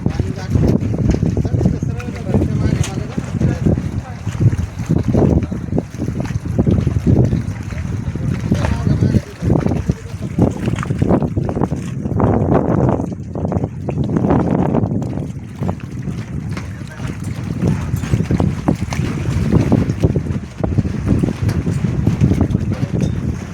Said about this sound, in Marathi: आता हे बघा स्कूटर बोटिंग करत आहेत.